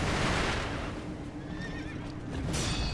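Horse neighs in the video game Sekiro, a high whinny rising over a steady bed of game noise and rumble midway, with a second brighter call near the end.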